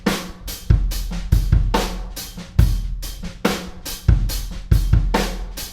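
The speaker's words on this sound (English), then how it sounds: "Altogether, those 3 mics with just EQ and compression sound like this." A drum kit is captured through kick, close room and far room mics blended with EQ and compression. Loud, heavy kick thumps drive a syncopated groove under ringing cymbals and snare, and the overall sound is full and punchy.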